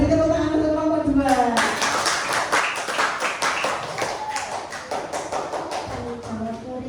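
A classroom of students claps for group 2, a burst of quick, uneven hand claps that starts after a teacher's voice and carries on for several seconds, fairly close and lively.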